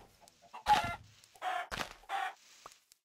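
A chicken in the Minecraft video game clucks in a few short, separate bursts with quiet gaps between them.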